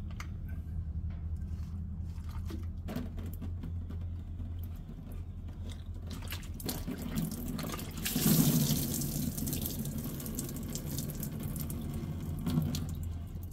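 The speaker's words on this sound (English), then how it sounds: "And here comes some diesel." Diesel drains from the fuel filter of a Seneca S2RV into a pan below, a soft trickling and splashing with a brief louder gush partway through, under low background hum.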